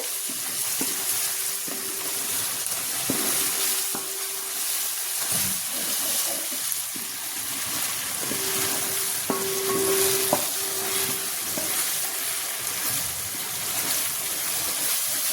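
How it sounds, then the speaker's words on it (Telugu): Ginger paste fries and sizzles in a pan for biryani, giving a steady close hiss while a spoon scrapes and clinks at irregular moments as it is stirred, with no talk. "ఇప్పుడు ఫ్రై చేసుకుందామండి అల్లం పేస్ట్."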